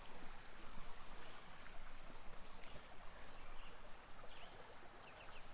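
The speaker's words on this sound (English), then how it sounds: "certainly a nice little creek" A small forest creek flows with a steady, dense babble and trickle of water, close by and continuous, with no voices.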